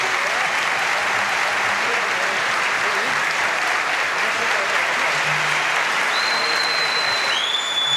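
Sustained applause from a big crowd at a symphony orchestra concert, a continuous wash of clapping that holds level for the whole stretch, with a thin whistle-like tone near the end.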